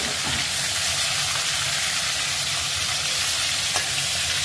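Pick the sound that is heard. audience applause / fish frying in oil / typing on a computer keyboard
fish frying in oil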